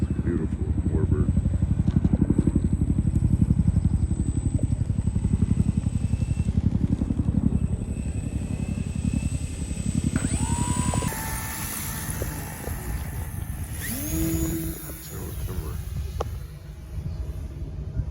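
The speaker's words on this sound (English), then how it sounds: "The P40 coming in. It's beautiful, warbird." A radio-controlled P-40 warbird model airplane flies in with a steady, loud engine drone that shifts pitch as it passes, with voices talking over it.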